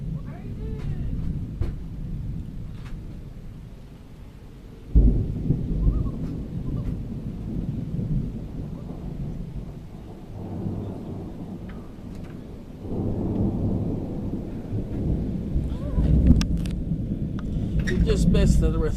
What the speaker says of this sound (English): Just had 3 direct strikes in the same spot